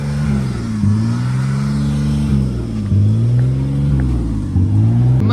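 A cheap supermoto motorcycle engine revs repeatedly nearby, loud and continuous, rising and falling in pitch through several rev cycles with a rumbling low end.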